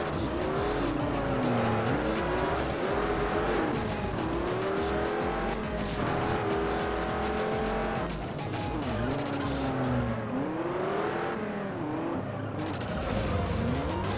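Engines roaring and tyres squealing in the street racing video game Juiced, with revs sweeping up and down through shifts and skids sliding in and out, loud and continuous with faint talk underneath.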